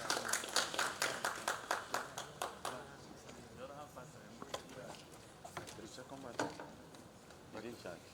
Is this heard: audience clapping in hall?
yes